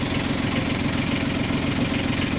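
A small used sailboat's inboard engine idles steadily near Falmouth, a continuous, even low rumble with a faint rhythmic knock, close and loud throughout with no talking.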